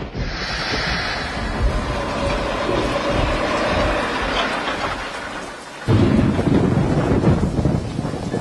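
Steady heavy rain hisses throughout a Bollywood film scene, then a deep, loud rumble of thunder rolls in near the end and swells over the downpour.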